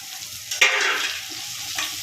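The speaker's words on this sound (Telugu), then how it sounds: "ఇప్పుడేమో టమాటా ముక్కలు వేసుకుందాం." Tomato pieces drop into a pan of softened onions for a mutton and boti curry, bringing a sudden burst of sizzling that swells near the middle, then settles into a steady fry with a brief stir scrape near the end.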